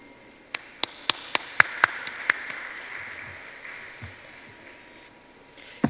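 Scattered hand claps from an audience at an NBA (Nigerian Bar Association) conference opening ceremony, a dozen or so sharp claps in the first two seconds that quickly thin out and fade into quiet room tone.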